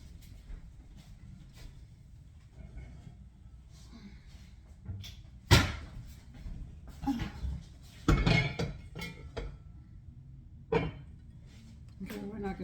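Clanks and knocks as a Dutch oven and pots are handled in a home kitchen, a few sharp metallic hits and thumps spread out over quiet background, fairly close.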